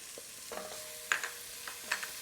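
Onion and minced garlic fry quietly in a skillet, a soft low sizzle broken by a few sharp utensil scrapes and clinks as the pan is stirred.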